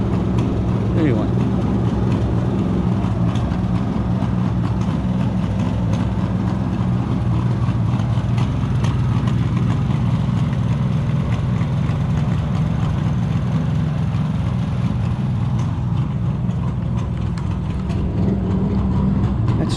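Old Suzuki GT 750 motorcycle engine running steadily after a year parked, a continuous low rumbling drone that holds for the whole stretch with no clear gaps.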